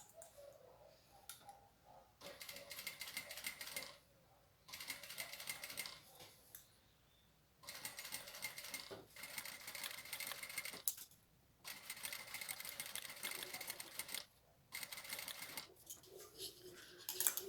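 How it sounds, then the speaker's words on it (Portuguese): A home sewing machine stitches slowly with short stitches on a toilet paper holder craft, running in several separate close bursts of a few seconds each with brief quiet pauses between them, softly recorded. "Eu diminuí bem o ponto, a velocidade da máquina, para fazer uma costura bem redondinha"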